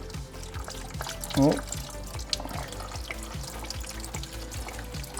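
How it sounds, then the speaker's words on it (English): Engine oil drains from a Holden VE SS during a home service, pouring in a steady close liquid stream with gurgling pulses; a man briefly exclaims under it. "You want to let as much oil drain out as possible"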